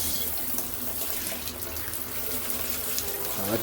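Water runs hard and steadily out of the diverter of a Price Pfister faucet into a tub or sink, a loud, continuous splashing rush with no talking.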